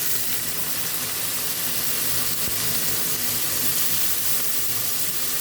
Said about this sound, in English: Now I am frying off the potatoes.